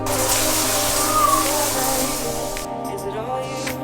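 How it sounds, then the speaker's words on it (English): Cold shower water running in a bathroom while solo traveling in Greece, a loud steady spray that cuts off abruptly partway through, leaving faint dripping and trickling. "It's time for that cold shower."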